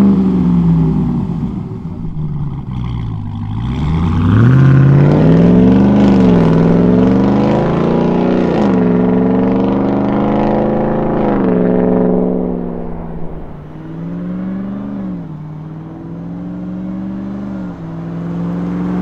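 A RAM 1500 TRX pickup's deep MBRP Race Profile cat-back exhaust revs up and down in long, rising and falling sweeps, loud and close, with a steady throaty rumble between the pulls.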